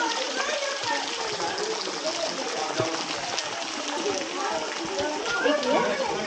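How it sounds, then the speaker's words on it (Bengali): Water falls from above inside a cave in Meghalaya, a constant splashing, trickling rush that fills the space, with a few faint voices mixed in underneath. "এই যে উপর থেকে জল আসছে।"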